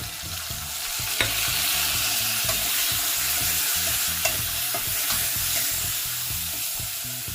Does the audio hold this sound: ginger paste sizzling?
yes